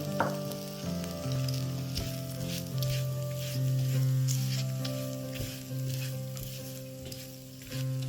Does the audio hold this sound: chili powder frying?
yes